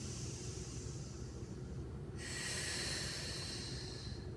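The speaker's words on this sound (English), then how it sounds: "Inhaling, exhaling, sinking it in." Deep breathing in mindfulness practice, a close, steady airy inhale that shifts midway into a brighter, hissing exhale, heard alone with no talk.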